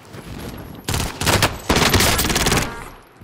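Video game gunfire in an online shooter, with loud, dense bursts of rapid automatic shots after a quieter lead-in, fading out at the end.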